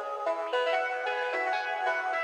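A bright plucky organ synth preset plays short plucked chords in a steady rhythm, each note starting sharply and fading quickly, with no voices.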